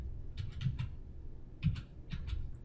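Typing on a computer keyboard during software data entry, with a few quiet clusters of key clicks in short bursts and no talk.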